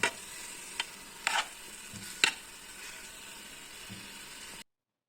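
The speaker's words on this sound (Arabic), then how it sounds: "كنحركو باش ما تلصقناش هاديك البصلة والثوم وقع الكوكوط" Onion and garlic frying at the bottom of a pressure cooker while being stirred, a soft low sizzle broken by a few sharp scraping clicks of the spoon against the pot, with no voices.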